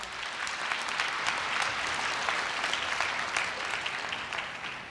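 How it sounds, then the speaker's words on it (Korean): Loud, sustained applause from a large crowd at a university entrance ceremony, dense steady clapping filling the room with no voices over it. "큰 박수로 맞이해 주시기 바랍니다"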